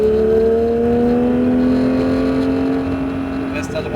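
A Porsche 911 GT3 accelerates on a race circuit, its engine drone steady and loud throughout, rising tones climbing gradually, with an instructor's voice talking over it.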